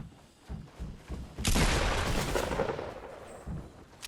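Gunfire in the video game Fortnite during a battle royale fight: a few muffled shots, then a loud sustained burst of rapid fire with rumble, trailing off into more scattered shots.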